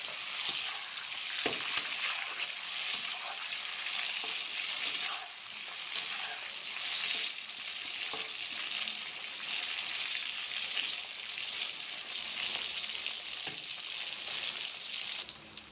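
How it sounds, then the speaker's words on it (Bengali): Chicken pieces frying in hot oil give a steady, dense sizzle with crackling and occasional sharp pops, holding at an even level throughout with no voices. "এইভাবে অল্প অল্প করে চিকেনগুলো ভাজতে হবে।"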